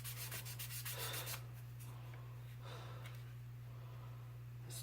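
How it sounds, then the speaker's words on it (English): Putty on a model part being hand sanded, a soft rapid rasp of strokes at first, then slower, fainter rubbing passes over a constant low hum. "You just want to sand it like this."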